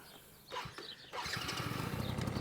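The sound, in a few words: 1985 Yamaha TRY 50cc two-stroke motorcycle engine starting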